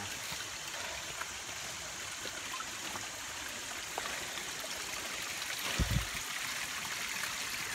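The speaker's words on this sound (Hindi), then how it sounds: "मिनी वाटरफॉल ना।" A small mountain waterfall stream in Arunachal Pradesh flows with a continuous rushing, trickling wash, fairly close, with a brief thump partway through.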